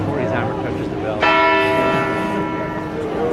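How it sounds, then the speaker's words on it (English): A large clock tower bell in Bern's old town is struck once, its bright ringing tone blooming loud and sustaining with long harmonic overtones over a busy crowd murmur in the open square. "the sound comes before his hammer touches the bell."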